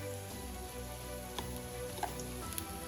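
Steady oil sizzle from shallow-frying pakoras, a continuous crackling hiss with a few sharper pops, fairly close and moderately quiet.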